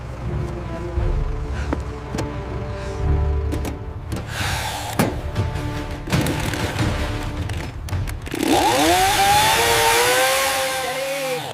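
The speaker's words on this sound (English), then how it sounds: "Bring the chainsaw." A chainsaw revs in bursts as a cartoon sound effect, its buzzing snarl mixed with thumps and other effects, ending in a rising whine.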